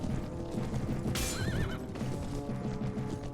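A horse in the video game Mount and Blade: Prophecy of Pendor gives a short, wavering whinny over steady clip-clopping hoofbeats and a busy background, moderately quiet overall.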